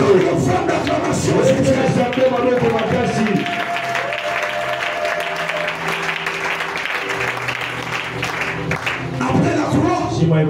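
A church congregation claps and calls out in acclamation, with the clapping strongest at the start and then giving way to loud, sustained voices that ring with a musical quality.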